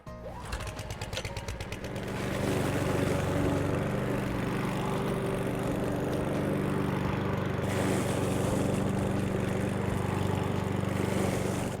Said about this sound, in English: get the mower out and mow your waste on your lawn